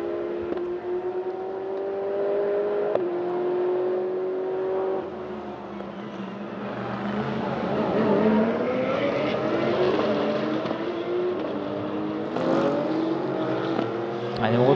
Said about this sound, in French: Luca Demarchi, sur la 488, la Ferrari numéro 3, qui a perdu les commandes au profit de cette Porsche